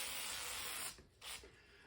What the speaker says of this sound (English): I'm just gonna hit it with a bunch of WD-40